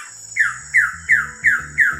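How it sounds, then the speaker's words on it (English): A male Wilson's bird of paradise calls in the remote Indonesian forest, repeating a loud, harsh descending squawk five times at a steady pace against a quiet background. "This is a Wilson bird of paradise, and check out his colours"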